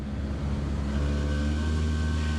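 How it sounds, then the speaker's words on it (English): Exhaust drone from a restored Nissan 100NX, a low steady rumble held close and constant for the whole stretch with no voices over it. "The exhaust note sounds like you're being followed by a Vespa."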